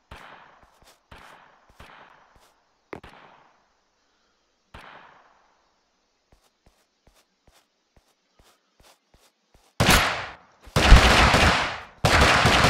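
Gunfire in the video game Totally Accurate Battlegrounds, a string of spaced single shots followed by a loud, dense burst of rapid fire, with no talk over it.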